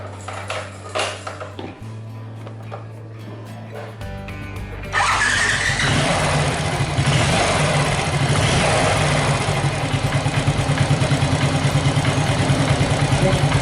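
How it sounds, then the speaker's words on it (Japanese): A Honda Super Cub engine, freshly given a cylinder overhaul, is restarted while warm: quiet clicks and cranking give way to a steady, close, fast-chugging idle that runs on alone to the end. "じゃあエンジンあったかいけどもう一回エンジンかけようかな。"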